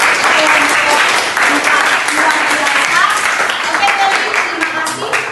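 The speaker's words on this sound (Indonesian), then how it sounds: "Kita beri tepuk tangan aplaus buat" A classroom of students claps together, a loud and dense burst of applause held steady for several seconds with some voices mixed in.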